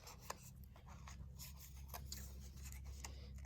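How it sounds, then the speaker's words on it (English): Scissors snip through paper painted brown and yellow, shaping it to look like tall grass, with faint, quiet rasping cuts and a few soft clicks over a steady low background hum. "So I am just going to cut this"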